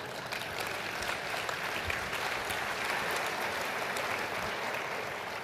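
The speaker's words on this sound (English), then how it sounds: "round of applause for Doug" Keynote audience at Sage Summit 2013 applauding a contestant named Doug, a steady dense wash of clapping from a large crowd that holds evenly throughout without any talk.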